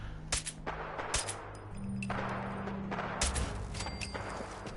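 Gunshots in the video game Fallout 4, a few sharp reports at irregular intervals over a steady low in-game drone, with no talking.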